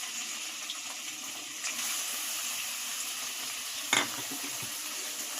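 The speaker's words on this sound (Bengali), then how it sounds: "এবার আমি চিংড়িটা ভেজে নেব।" Shrimp fry in a pan with a steady, fairly quiet sizzle that swells briefly partway through, and there is one sharp clink near the end. No one speaks.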